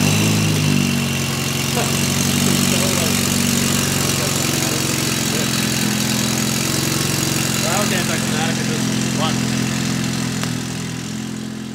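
A rebuilt BMW N20 engine in a 328i idles steadily nearby with a low, even rumble, while voices talk intermittently over it.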